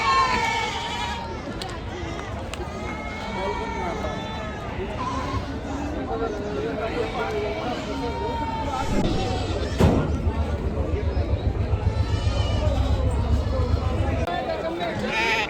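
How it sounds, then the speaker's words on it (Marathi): Farm-raised sheep bleat again and again over loud crowd chatter and people talking nearby at a large Maharashtra livestock market, a noisy gathering of animals and voices. "मेंढ्या पाहू शकाल फार्मच्या मेंढ्या आहेत बघा"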